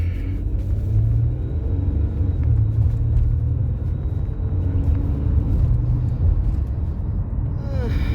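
A car pulls away from a traffic light on a morning commute, heard from inside the cabin as a steady, loud low engine and road rumble that carries on evenly throughout.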